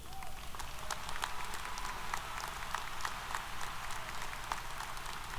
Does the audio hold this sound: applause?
yes